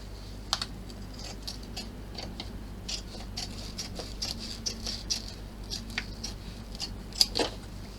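Small scissors trimming off craft material for a mini compact: quiet, close snips and light clicks scattered over a soft background hum.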